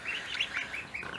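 Young ducklings in a brooder inside a woodshed, a quick run of thin, high peeps close to the microphone.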